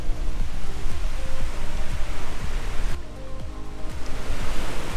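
Ocean waves at a beach in Da Nang, Vietnam wash in as a steady, loud roar of surf with repeated breaking surges, heard alone without talk.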